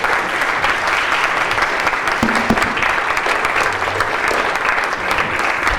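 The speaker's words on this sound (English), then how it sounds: "let's give our participants a round of applause here" Audience applause fills the room, steady and fairly loud, with a few brief louder claps and faint voices underneath.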